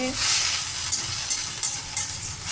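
Ginger, garlic and pirandai stems being sautéed in a pan, a continuous close sizzle of frying with a few soft scraping stirs, no speech.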